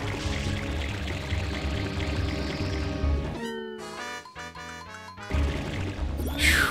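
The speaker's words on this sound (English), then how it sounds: "We're going to need to propel ourselves using water." Water spray from the nozzle pushing a boat in Super Mario Sunshine gives a gushing, pouring rush mixed with bright game music tones, shifting partway through as the jet stops and restarts.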